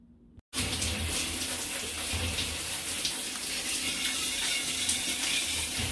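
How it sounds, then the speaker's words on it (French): Steady shower water pours loudly and continuously in a home bathroom, a dense hiss of spray that starts abruptly after a short quiet moment and runs unbroken. "je viens de finir du coup ma douche"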